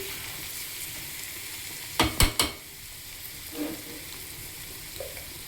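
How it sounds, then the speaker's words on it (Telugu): Goat blood fry sizzles in a pan on a low flame, a soft continuous frying hiss broken by a few sharp scraping stirs and a later light clink, with no voices. "మాడకుండా సిమ్లో పెట్టే వేయించుకోవాలండి"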